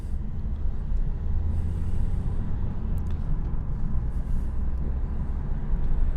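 A 2015 Nissan Juke 1.5 dCi diesel with a boost fault, driven normally at low speed: a steady low engine drone and road rumble from inside the cabin, continuous and flat with no rise in revs.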